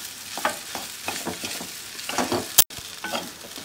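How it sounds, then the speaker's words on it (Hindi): Mushroom fried rice with spices and onion tossed and stirred in a hot pan, continuous close sizzling with scraping strokes and a sharp clack near the end, no speech. "अच्छे से मिक्स कर देंगे मसाले प्याज मशरूम चावल के साथ में"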